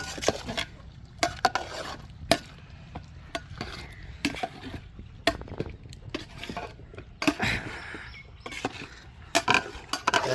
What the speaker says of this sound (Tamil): இது கடைசியாக பெப்பர் வந்து கொஞ்சம் கிண்டிக்கிறேன்